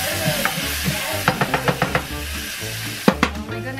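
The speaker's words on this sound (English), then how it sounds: "I'm gonna put some minced garlic in it" Minced garlic sizzles in a hot pan where rice is cooking, a steady soft frying hiss under a run of quick, light stirring taps and scrapes, followed by two sharper clinks near the end, with no voices.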